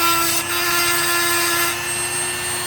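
A Dremel rotary tool fitted with a diamond bit grinds into mookaite jasper or fire quartz stone, a steady high whine holding constant and close for the whole stretch, with no talking.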